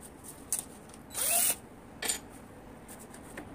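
A power drill drives a screw into a wall mount for a fishing rod stand. One main whir lasts about half a second, with brief quieter blips around it, and the background stays faint and quiet.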